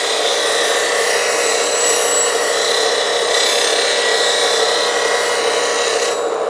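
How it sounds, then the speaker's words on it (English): A woodturning gouge is sharpened on a 180 grit CBN grinding wheel, making a loud, steady, close grinding whir with a bright rasping edge. It runs without a break for several seconds. "This is a CBN wheel, 180 grit."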